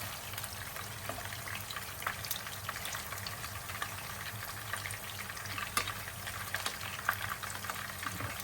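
Chicken malai kofta balls simmer in curry, a faint, steady bubbling and gentle frying crackle with small pops, no voices over it.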